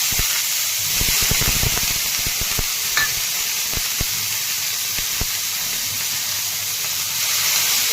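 Ingredients sizzling in hot oil in a pan for a traditional village-style vegetable dish: a steady hiss with a flurry of clicks and taps early on, then sparse ticks.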